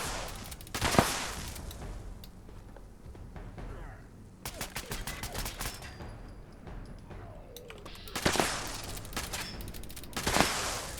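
The Kabloom weapon in Fallout 76 fires in bursts of sharp, cracking explosions, with quieter gaps between loud clusters of blasts and faint background game sounds.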